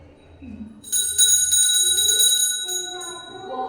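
A ritual hand bell (genta) rings with a bright sustained metallic tone and shimmering tremolo, fairly loud, decaying slowly while a storyteller's voice speaks over it.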